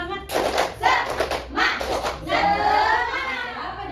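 A group of Indonesian schoolchildren does a spirit clap in a quick rhythmic pattern, bursts of claps separated by short pauses, ending in a drawn-out shout of voices together.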